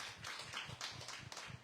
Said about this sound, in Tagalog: Napaka-energetic ng palakpak nyo